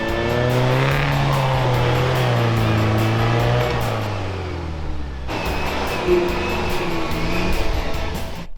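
A Dodge pickup towing a trailer drives into a snowbank, its engine revving hard and steady under load, loud and close, with a brief dip in pitch and strain partway through before it roars on.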